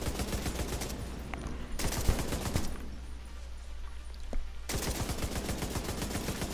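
Light machine gun fire in The Division 2, fast rattling bursts of rapid shots with a pause in the middle, loud and close, no talking.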